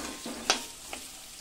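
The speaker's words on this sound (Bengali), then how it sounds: "এরপর আমি পেঁয়াজগুলো ভাজার জন্য দিয়ে দিলাম। পেঁয়াজগুলোকে আমি লাল লাল করে ভেজে নেব।" Onions frying in a pan of oil already seasoned with cloves, cinnamon and cardamom for a mutton curry: a soft, steady sizzle with a couple of sharp clinks from stirring, fairly quiet and with no voices.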